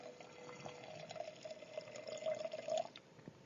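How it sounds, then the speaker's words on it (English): Wine pours into a glass in a steady, faint trickling stream with a gently rising gurgle as it fills, heard close up for about three seconds with no talking over it. "That's AMSR wine pouring"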